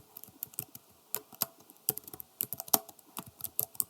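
Fingers type on a computer keyboard while entering data in an Excel spreadsheet, a brisk run of crisp close key clicks with uneven rhythm and no voices.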